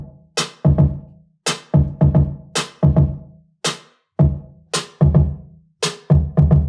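A hip-hop drum part plays alone, a dry, punchy pattern of crisp snare-like hits and booming low kicks in a steady, evenly spaced groove, loud and clean with silence between the hits.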